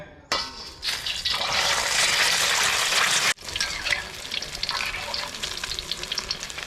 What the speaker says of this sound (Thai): ไข่ดาวของเรานี่ก็จะทอดด้วยไฟแรงนะครับน้ำมันที่ใช้ทอดนี่ก็ต้อง ใส่เยอะ ๆ